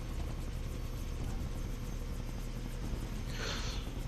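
A helicopter in Far Cry 3 drones steadily throughout, a continuous low rotor rumble with a brief brighter whoosh near the end.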